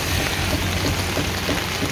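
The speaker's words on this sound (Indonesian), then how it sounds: "Wah, hujan nih, Bang." Rain pours down outdoors in Pontianak, a thick, constant wash of drops on surfaces filling the scene with no voices.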